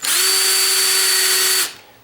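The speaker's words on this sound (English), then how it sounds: "Give us a rough idea of where we're going to be drilling." An electric drill drilling into a wooden door whines at a steady high pitch for over a second, then winds down and stops; close and loud, no voices.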